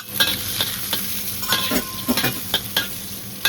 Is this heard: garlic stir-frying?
yes